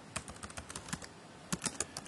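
Rapid clicking of keys on a computer keyboard as someone types out a short Python program on a Windows Vista machine, irregular bursts of close, crisp taps with brief pauses between them.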